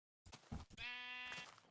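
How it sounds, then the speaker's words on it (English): Sheep in the video game Minecraft give a short bleat, then a longer wavering one, close and clear with no talking over them. "Hello, sheep."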